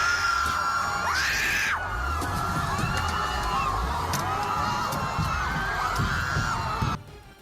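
Panicked crowd of protesters screaming and shouting on a Los Angeles street as a speeding truck drives into them, loud and continuous shrieks from many voices throughout, cutting off abruptly at the end.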